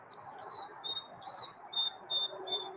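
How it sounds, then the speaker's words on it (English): A pet bird squawks and chirps in a repeated high series of short calls, fairly faint, over a low background hum. "Sing it, Chirpy"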